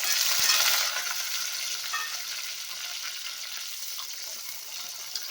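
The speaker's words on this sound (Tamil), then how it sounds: "கட் பண்ணி வச்சுக்கிற வெங்காயம், கறிவேப்பிலையும் சேர்த்துக்கலாம்." Onion, curry leaves, mustard seeds and urad dal sizzle steadily in hot oil in a pan, a close, continuous frying hiss that is loudest at first and then settles, with faint stirring clicks.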